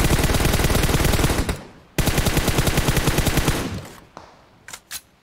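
Automatic gunfire in PUBG Mobile rattles in two long, loud, rapid bursts, with a pause between them. A couple of sharp single shots follow as the firing tails off.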